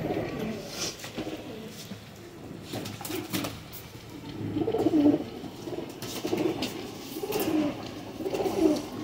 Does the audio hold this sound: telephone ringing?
no